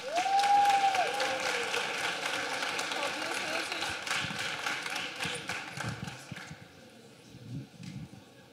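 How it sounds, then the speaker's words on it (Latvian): A crowd at an award ceremony in Jelgava applauds the winners, a loud, dense burst of clapping that starts with a short high tone, stays strong for several seconds and then thins out and fades toward the end. "Apsveicam uzvarētājus ar aplausiem!"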